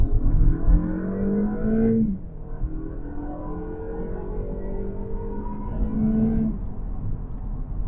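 A 2021 Toyota Camry XSE's 2.5-liter four-cylinder engine pulls hard in comfort mode, its drone rising steadily through two gears with a brief dip at the shift, loud and continuous inside the cabin.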